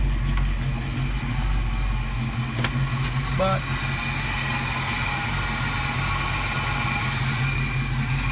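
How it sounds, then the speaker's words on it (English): A GMC Yukon idles in snowy weather with a steady low engine rumble, close and constant, while someone talks briefly over it. "it's going to stay idling"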